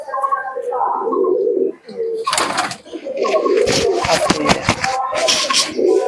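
Giribaz pigeons cooing close by in low throaty rolling calls, interrupted by bursts of wing flapping and scuffling, with a voice speaking over part of it.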